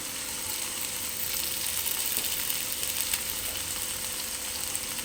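Curry leaves hit hot oil in a pan with tomato for semiya upma, giving a bright, steady sizzle that swells slightly midway, close and continuous with no voices.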